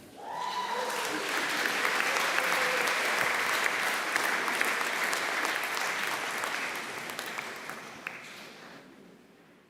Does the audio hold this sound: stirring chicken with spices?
no